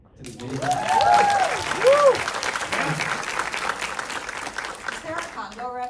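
An audience at a film Q&A breaks into loud, sustained applause and cheering that swells and then slowly fades, with voices calling out over the clapping.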